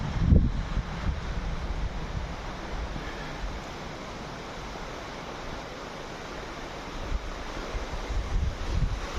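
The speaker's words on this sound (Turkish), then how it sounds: "Gerevara Deresi şu an yağmur sonu olduğu için su biraz fazla" Gelivara creek running high after rain, heard from a bridge above as a steady broadband rush of water with some wind buffeting and no voices.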